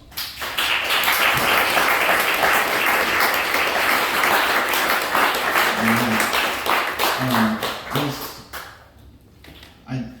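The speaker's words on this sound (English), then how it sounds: "give him a round of applause" A crowd applauds steadily for several seconds, the clapping thinning and fading out toward the end.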